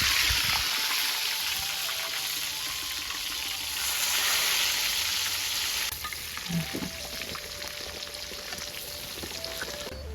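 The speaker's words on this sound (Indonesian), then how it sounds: "Goreng gembusnya dulu." Gembus, crumbly tempeh dregs, fries in a pan of hot oil, giving a continuous bright sizzle and crackle that eases partway through, with occasional stirring scrapes and clinks close by.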